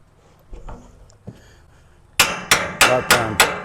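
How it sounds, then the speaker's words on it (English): A wrench strikes parts of an engine being pulled from a Timberjack skidder to shock them loose. Five sharp, loud metallic blows land in quick, even succession, after a few faint knocks and rustles. "you can hit them things and it Shock them loose"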